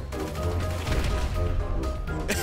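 Rapid gunfire from GTA V Online, a dense, loud burst of shots and game noise running continuously through the clip with a sharp crack near the end.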